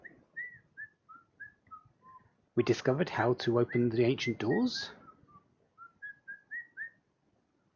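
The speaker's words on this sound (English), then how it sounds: "Any more whistling?" A short, tuneful whistled phrase of brief rising notes plays before and after someone speaks, then trails off into quiet.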